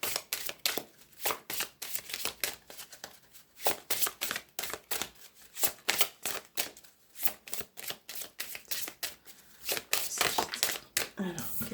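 A deck of Petit Lenormand cards is shuffled close up. Quick rhythmic riffles and flicks repeat in bursts through the whole stretch, with soft papery rustles between them.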